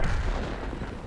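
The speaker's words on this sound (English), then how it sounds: "Let's hide from the artillery while we reload" Artillery fire in World of Tanks, where a TL-7 premium tank destroyer hides while reloading, comes as a steady rumbling barrage of low booms, loud and continuous with no talk over it.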